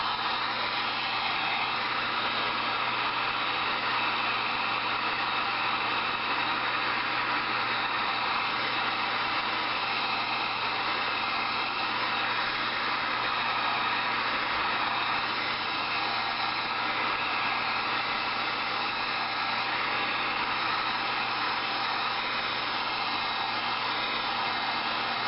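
A heat gun warms a Kydex sheet, blowing a constant loud airy roar with no change in level from start to finish.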